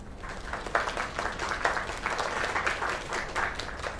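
An audience in the video game Lake applauds steadily, a dense, even wash of many hands clapping at moderate distance, continuous throughout with no talk over it.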